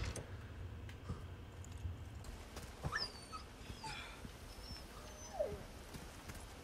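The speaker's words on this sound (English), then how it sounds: "I saved the dog?" A dog whimpers and yelps in the Resident Evil 4 Remake game, high thin cries over a low rumbling ambience. The calls are faint and come in a few short bursts.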